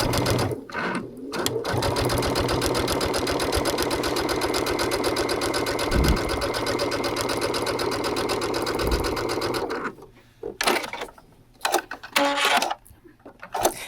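A Brother sewing machine stitching with a MuVit foot, a fast steady mechanical whir and rhythmic needle clatter running for about ten seconds, then stopping, leaving a few short rustles and clicks.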